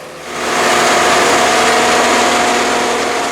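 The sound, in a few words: railroad spike puller machine running on track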